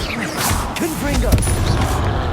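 Confringo blasting spell firing in Hogwarts Legacy, loud crackling bursts and a sharp impact around the middle amid ongoing spell-combat clatter, with a voice heard in the mix.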